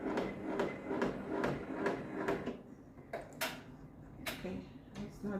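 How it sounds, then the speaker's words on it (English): An embroidery machine stitching an applique placement line on a baby onesie in a small hoop, producing a steady, rapid rhythmic ticking and clatter, close by, with a few louder clicks toward the end. "So this is gonna stitch out the placement line."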